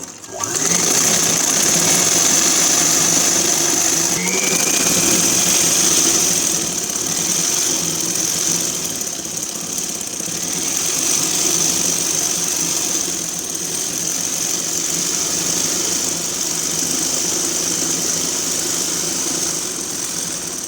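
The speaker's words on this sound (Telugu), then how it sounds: "అలాగే పక్కన ఇంకో స్టిచ్చింగ్ వేస్తున్నాను, డబుల్ కుట్టు." A sewing machine runs steadily for a long stretch, putting a second, double line of stitching along an umbrella-style full-length frock, with a continuous close whir and no talking.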